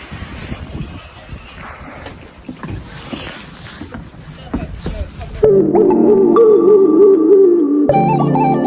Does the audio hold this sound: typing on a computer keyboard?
no